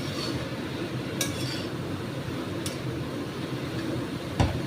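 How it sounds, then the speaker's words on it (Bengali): Fenugreek greens stirred with spices in a pan over a very low gas flame: a steady, even hiss broken by a few sharp utensil clinks against the pan, no voices. "দিয়ে শাকটা দিয়ে নাড়বো।"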